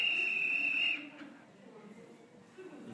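A single sustained whistle note from a Strapya World toy, held steady for about a second close up before cutting off into quiet room noise.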